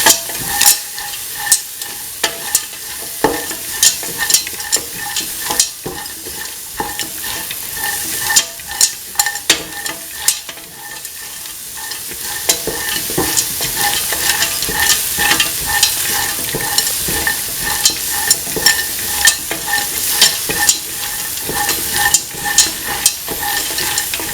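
Spoon stirring green peas into a kidney bean and coconut milk stew in a pot, a steady run of soft scraping strokes over a continuous close sizzle, with no talking.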